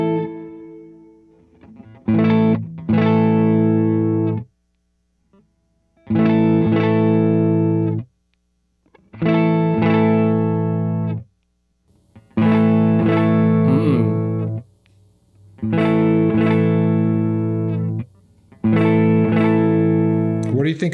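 A 1972 Gibson Les Paul electric guitar with a gainy crunch tone plays six loud distorted chord phrases, each a few seconds long and separated by brief silences.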